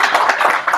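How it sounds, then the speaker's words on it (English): Brief audience clapping at a business meeting, a short burst of hand claps heard close and fairly loud. "please let's put a hand of applause for it"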